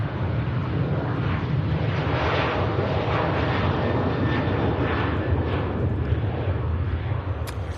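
An airplane departing Manchester Airport for Alicante roars steadily and loudly throughout, a continuous broadband jet engine rumble with no talk.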